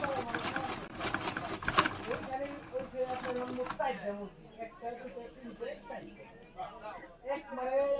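A Butterfly sewing machine stitches with a rapid rhythmic clatter that is busiest at first and then thins out, while a person talks over it.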